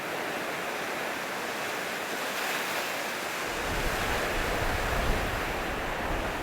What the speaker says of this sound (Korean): 파도가 바위를 삼킬 듯 출렁대고 있다